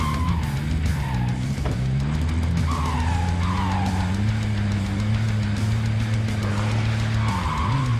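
Car in Call of Duty Warzone driving steadily with a constant engine drone, with several short tire squeals as it skids through turns, loud and continuous with no voices.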